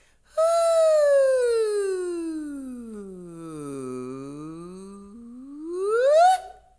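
A single sung vowel glides smoothly from a high pitch down to a low one, holds there, then sweeps back up at the end.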